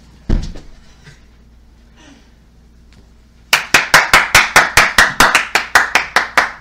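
A few people clapping their hands in a steady, even rhythm, about a dozen sharp close claps after a quiet stretch with a couple of faint knocks.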